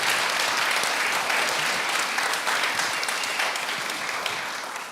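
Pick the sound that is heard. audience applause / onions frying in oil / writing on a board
audience applause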